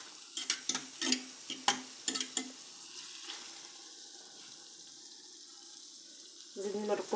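Hot water rinses a clay tajine pot, beginning with a quick run of clinks and splashes, then a faint, steady trickle and pour, and ending with a louder gush of water.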